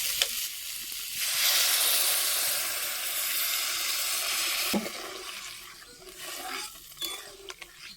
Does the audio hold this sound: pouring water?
yes